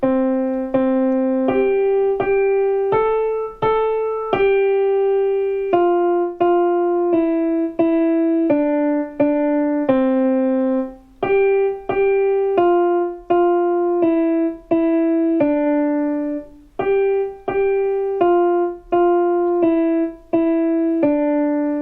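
A simple single-line piano melody of Twinkle Twinkle Little Star, right hand only, one note at a time in an even rhythm, played alone and fairly soft.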